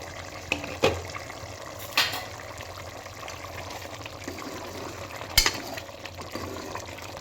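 Tomato bath simmers in a lidded pot, giving a soft, continuous watery bubbling with a few sharper clicks and knocks scattered through it.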